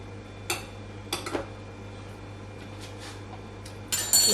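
A clean metal spoon clinks a few times against a pot of Scotch broth with barley and lamb, sparse light taps over a steady low kitchen hum, no talking.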